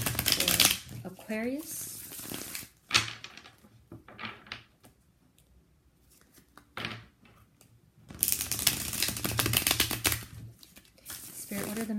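Cards are shuffled in two bursts of rapid riffling and flicking, with a quiet stretch of soft handling and a brief spoken phrase between.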